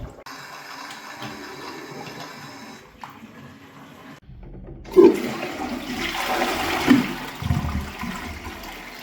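Water rushes into newly plumbed bathroom fixtures in a barn conversion, a steady hiss and gurgle like a toilet cistern filling, quieter at first and then swelling louder with splashing surges near the end.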